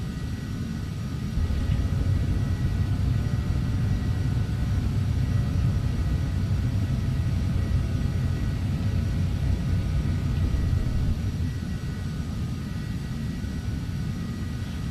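Steady, loud jet roar of a Phenom 300 business jet on approach to land in the Prepar3D flight simulator, a continuous low rumble with a faint whine that holds evenly throughout.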